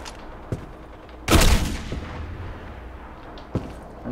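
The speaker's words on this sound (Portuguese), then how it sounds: "Já atirou. Epa, errei o tirinho." A single sharp sniper rifle shot cracks loudly in the video game Black Squad, with a short echoing tail and a couple of fainter clicks and pops around it.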